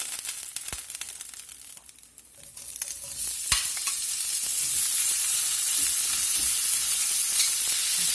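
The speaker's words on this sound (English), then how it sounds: "then we'll start browning this sausage off" Sausage browning in a pan with blackening spice, a soft rustle and a few sharp clicks first, then a steady loud sizzle that swells and holds near and bright, no talk.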